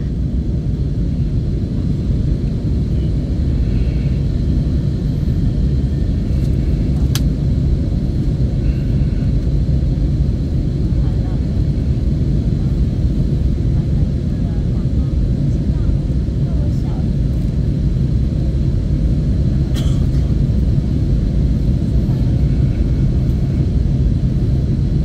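A Cathay Pacific airliner landing at Taoyuan, Taiwan, on a flight from Hong Kong fills its cabin with a steady, loud, low rumble that holds evenly throughout, with faint clicks and no clear talk.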